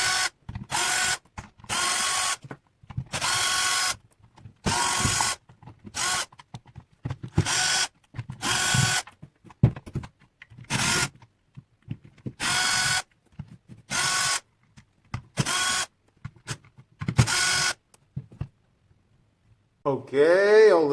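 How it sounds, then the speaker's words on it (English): Parkside PABS 20-Li D4 cordless drill runs in repeated short bursts while backing screws out of a plastic housing, loud and close with a steady on-off rhythm, each whir separated by brief pauses. "let's start to unscrew with this Parkside tool"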